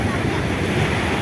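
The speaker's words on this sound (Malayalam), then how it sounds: "തിരമാല വരുന്നുണ്ട്." Sea waves wash onto a beach in a loud, continuous surf roar mixed with wind buffeting the microphone.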